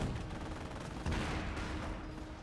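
A jeep fires in Company of Heroes: rapid, dense gunfire over a continuous battle din, with a sharper burst midway, steady and moderately loud with no voices.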